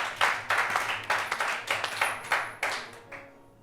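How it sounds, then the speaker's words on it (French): A few people in an audience clap in an irregular, sparse burst, individual claps standing out distinctly rather than blending into a full ovation, then tapering off. "On l'applaudit très fort, s'il vous plaît."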